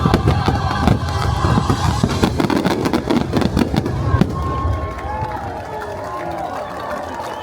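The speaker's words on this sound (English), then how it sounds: "I like those fireworks a lot." Fireworks bursting at Mickey's Very Merry Christmas Party, a loud, dense barrage of booms and crackles over a cheering crowd and music, thinning out to a quieter tail of scattered pops and whistles.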